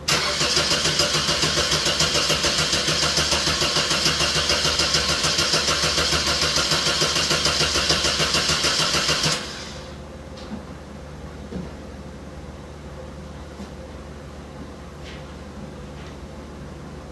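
2005 Pontiac Vibe with 250k miles and a weak battery, starter cranking with a dense, fast, loud whir for about nine seconds, then the engine catches and drops into a quieter steady idle with occasional light clicks.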